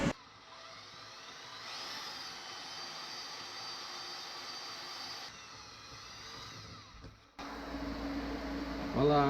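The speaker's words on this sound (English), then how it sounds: "Now I need to cut the stock end off of the stock shifter" Power cutting tool slicing the stock end off a factory manual gear shifter during a TR6060 shifter relocation in an LS-swapped Datsun 260Z, a steady loud whine that drops off briefly and then resumes harsher near the end.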